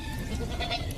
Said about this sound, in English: Goats. Goats in pajamas.